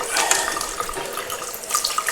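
Tap water runs steadily into a sink during ritual washing for wudhu, a continuous close splashing hiss with slight fluctuations as hands and face pass under the flow.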